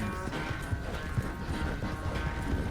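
Steady rhythmic hoofbeats of a galloping horse in Red Dead Redemption 2 pound along continuously over a dense, even background rumble.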